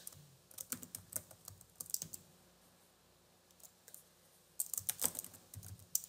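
Keys clatter on a computer keyboard in quick bursts of close, crisp taps, with a pause in the middle before another flurry of typing.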